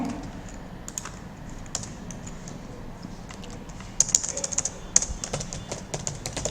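Typing on a computer keyboard while building a Bootstrap web page: steady clicking keystrokes, close and moderate, growing denser and sharper in the last few seconds, with no voices.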